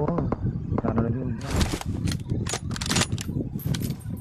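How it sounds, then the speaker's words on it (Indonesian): Gunfire in PUBG Mobile sounds as a cluster of sharp cracking shots in the middle of the stretch. People talk before and around the shots. "Tembakan tu bang."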